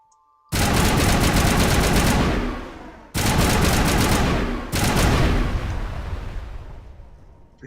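Three loud sustained bursts of Mass Effect assault rifle fire, rapid rattling shots, each burst several seconds long and separated by short pauses, close and dominant with nothing else heard.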